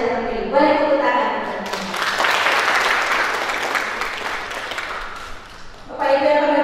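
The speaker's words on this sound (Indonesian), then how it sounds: "Boleh tepuk tangan." An audience at a school science paper presentation applauds in a sustained burst of clapping that swells and then fades. Speech from the presenter can be heard before and after it.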